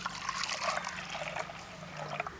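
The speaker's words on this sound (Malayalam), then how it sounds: "ഈ പരിപ്പിൻ്റെ വെള്ളം ഒന്ന് ഇളക്കിയിട്ട് ഈ ഒരു ചട്ടിക്കണ്ട് ഒഴിച്ചു കൊടുക്കുക" Water from cooked dal is stirred and poured into a clay pot for rasam, giving a soft, continuous trickling and splashing that is fairly quiet and close, with no talking.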